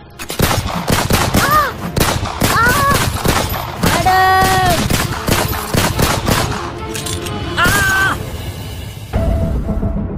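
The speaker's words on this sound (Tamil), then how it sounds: "தன்னோட கையில வச்சிருந்த துப்பாக்கியால இந்திரா காந்தியை நோக்கி 25 முறை சராமாரியா சுட்டு தள்ளுறான்" Rapid bursts of gunfire in a dramatized assassination of Indira Gandhi, loud and sustained across the scene and mixed with dramatic music and raised voices, the volleys running almost continuously.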